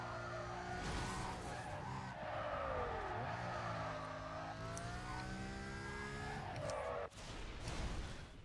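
A car in the Need For Speed Carbon racing game skids and spins, its tires squealing over a loud, revving engine that sweeps up and down in pitch throughout.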